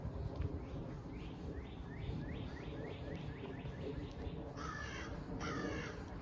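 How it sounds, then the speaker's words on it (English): Crows caw in a rapid run of harsh calls at mid-distance in a park during a walk, over a steady outdoor background wash; a couple of louder, raspier calls close the sequence. "That's the sound of a crow."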